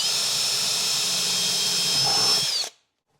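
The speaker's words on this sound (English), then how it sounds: "I'm going to drill my weep hole." A power drill bores a pencil-sized weep hole in a self-watering planter pot, a steady high whine held for over two seconds, close and loud, then cutting off sharply into silence.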